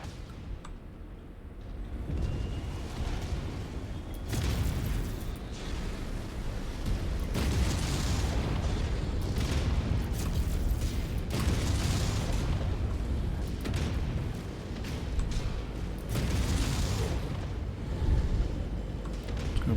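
A destroyed enemy vehicle blows up in MechWarrior 5, with a deep, sustained rumbling roar and dense low booms rolling on throughout, steady and loud with no clear pauses.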